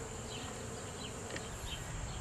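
Honeybees on honey frames during a hive inspection buzz in a steady, continuous hum close by, with individual bees droning past now and then; no one speaks.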